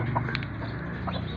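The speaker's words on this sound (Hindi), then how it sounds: "ये मेरी भतीजी ये मुर्गियों को दाना दे रही है, छोटे छोटे रोटी के टुकड़े करके।" Chickens being fed small pieces of bread give soft clucks and brief calls over a steady low background hum, close by and fairly quiet.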